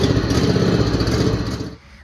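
A John Deere Z375R ZTrak zero turn mower engine runs loudly and steadily as it is driven to park, a close, rough mid-pitched rumble that drops away at the end.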